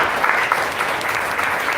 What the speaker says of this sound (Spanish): Así que fuerte el aplauso para él.